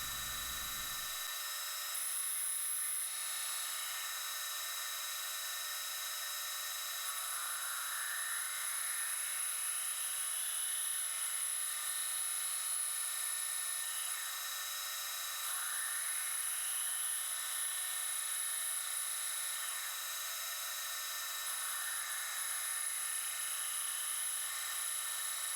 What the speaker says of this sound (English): turning a recess in the gear to accept the new hub